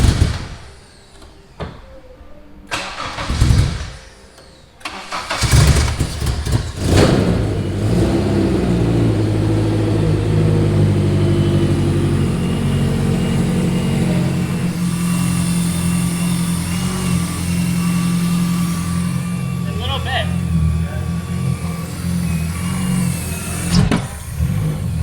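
A Honda K24 engine in a tarmac rally car build catches after a few clunks and cranking bursts, then runs loud and close with rough revving and a steady idle for the rest of the clip.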